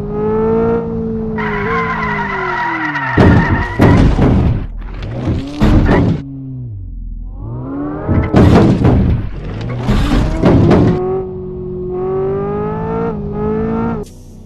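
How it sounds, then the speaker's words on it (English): A supercar spinning out in the VR driving game Drive Island VR. Its loud engine whine climbs and drops as it revs, broken by repeated harsh bursts of tire screech during the skid. "Watch me spin out in this supercar."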